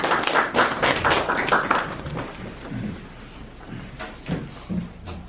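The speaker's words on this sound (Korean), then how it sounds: "우리 박수로 환영하도록 하겠습니다" A church congregation claps in welcome for a visiting pastor during a founding worship service; the clapping is brisk and close at first, then thins and fades into quieter, scattered noise.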